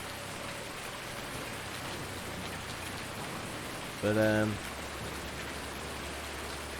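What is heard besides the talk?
rain effects in video game Farming Simulator 2019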